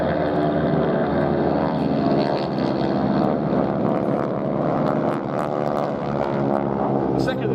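A T-6 Harvard propeller aircraft flies at the Duxford air festival, its engine a sustained, fairly loud drone with a commentator talking over it throughout.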